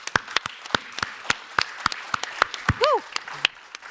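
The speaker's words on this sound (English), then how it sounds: "a great applause for what you are doing" An audience at an SME Assembly event claps in scattered, fairly sparse applause, a steady run of distinct hand claps at moderate distance with a brief voice partway through.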